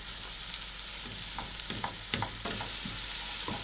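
Green and red peppers hit a pan of frying onion and oil with a steady, close sizzle and crackle. A few soft stirring clicks sound while no one speaks.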